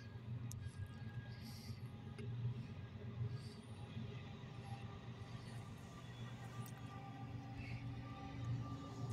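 A loaded CSX coal train passing westbound in McKeesport, a steady low rumble of rolling railcars that stays constant for the whole stretch, heard from trackside with no talk.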